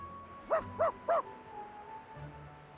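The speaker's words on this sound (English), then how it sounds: "Pickles emits a low, tender whine." Pickles the dog gives three short, soft whining whimpers in quick succession, close and gentle over a quiet background.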